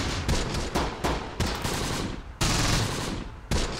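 Sustained automatic gunfire in the WWII tactics game Close Combat, Normandy bocage setting, loud bursts with sharp onsets at intervals over continuous rattling fire, no voices.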